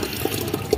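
Water pouring into a drinking container for chickens, a short splashing trickle with small gurgling pulses, close and fairly loud.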